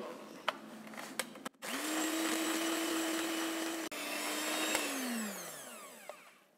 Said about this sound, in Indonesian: aduk menggunakan mixer sampai kental berjejak kurang lebih sekitar 10 menit